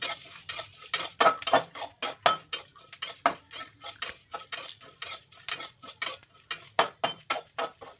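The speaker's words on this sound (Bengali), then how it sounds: "এগুলিকে আমি শুকনো খোলায় একটু ভাজা করে গুঁড়ো করে নেবো" Dry chillies, fennel, cumin and coriander seeds roast in a dry pan, stirred with a utensil in quick, rhythmic scrapes and clicks, close and steady with no talk.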